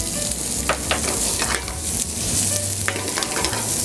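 Half an onion sautés in olive oil in a pan for butternut squash soup, giving a steady close sizzle and crackle throughout with a few sharp stirring scrapes and clicks.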